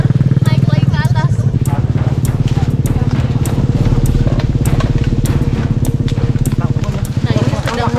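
A heavy 200–300 kg motorcycle labours up a steep, rough village track in the dry season, its engine droning steadily and loudly throughout, with voices talking over it.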